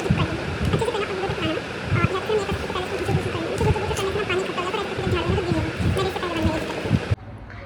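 Coffee-tinted water poured over paper to stain and wrinkle it, a steady watery trickle and splash running for about seven seconds at close range, then stopping abruptly.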